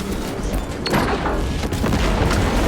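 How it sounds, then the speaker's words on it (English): A melter bomb detonates in Warhammer 40,000: Space Marine 2, a loud, full-bodied boom that rolls into sustained rumbling and crackling debris across the whole stretch, with no pause or quiet gap. "Melter bomb deployed."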